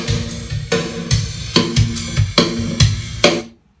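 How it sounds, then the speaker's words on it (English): Snare drum played alone in a loose pattern of about ten close hits, the clean sound blended with a heavily compressed parallel copy underneath, ending with a ringing decay into silence. "we take that overly squashed sound and we do it in parallel with the normal hi-fi sound"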